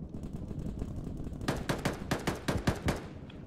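Gunfire in the video game Arma 3, with a sustained machine gun burst of sharp, rapid shots that starts midway and rattles on for about a second and a half after a quieter stretch.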